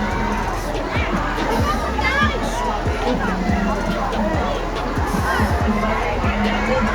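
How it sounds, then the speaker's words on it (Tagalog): Crowd going wild at a basketball celebration at North Riverside Resort, loud continuous cheering and shouting babble with voices close by and dense crowd noise throughout. "Buong crowd nagwala."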